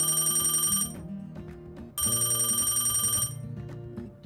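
A telephone bell rings in two loud, close bursts separated by a short pause, each a bright trilling ring with a silent gap before the next.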